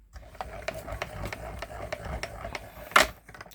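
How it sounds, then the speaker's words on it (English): An embossing machine for paper crafting runs with a steady, rhythmic mechanical clatter of repeated clicks and a low hum, ending in one louder snap near the end; no one speaks. "We are all done with our embossing machine."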